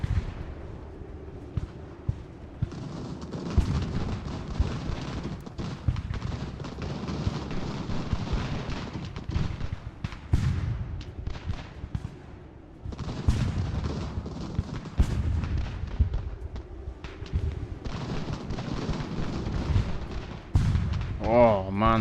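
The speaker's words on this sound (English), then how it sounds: "Oh man, those cannons." Cannon artillery fire in the video game Ultimate General: American Revolution, heavy repeated booms and rumbling volleys rolling through a dense battle din for the whole stretch, with a voice speaking over it at times.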